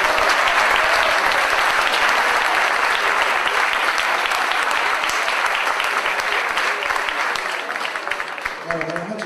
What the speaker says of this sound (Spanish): recibimos con un fuerte aplauso a Flavio Schiavone y Héctor Castro